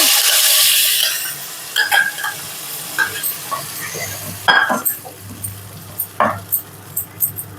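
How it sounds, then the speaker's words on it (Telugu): Mashed moong dal is stirred and fried in a pan with onions and curry leaves. A loud sizzle at first gives way to a run of scraping, clacking spoon strokes in an uneven rhythm. "లైట్ బ్రౌన్ కలర్ వచ్చేలాగా వేయించుకున్న తర్వాత మెదుపుకున్న పెసరపప్పును వేసుకోవాలి"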